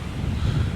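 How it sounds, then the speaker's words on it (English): Steady low wind rumble buffets a GoPro Hero 8 microphone throughout on a very windy day at a watermelon ranch in Lago Vista, Texas, a continuous gusty roar with no other sounds standing out. "it's been a nice, very windy day. The wind almost dropped my camera."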